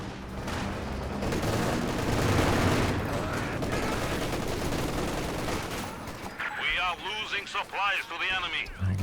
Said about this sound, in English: I guess that's some artillery by the Major, forcing those overs to reposition.